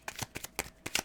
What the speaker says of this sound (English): These cards got wet and they're not shuffling.